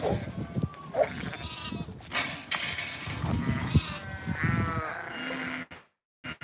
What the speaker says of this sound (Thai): เป็นแกะพันเนื้อนะคะ เป็นแกะพันใหม่ของออสเตรเลียนะคะ